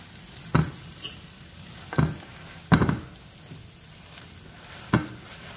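Beaten egg and a bread slice frying in a pan over onions on low heat, a soft sizzle punctuated by four or five scraping stirs or pats of a spatula, close by.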